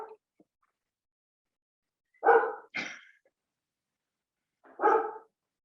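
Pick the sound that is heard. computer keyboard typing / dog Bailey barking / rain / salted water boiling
dog Bailey barking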